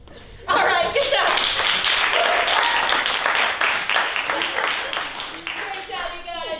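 Audience applause at a live improv comedy Christmas show, a dense burst of clapping that starts abruptly and holds steady for several seconds, with voices and light laughter mixed in.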